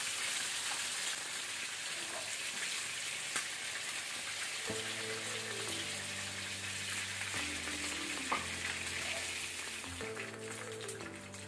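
Chicken pieces frying golden brown in a pan for butter chicken, a constant crackling sizzle with scattered pops throughout, and faint tonal beeping layered in midway.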